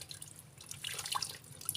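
Tap water runs from a faucet into a sink, a low steady splashing trickle with light droplet patter, close and quiet with no voices.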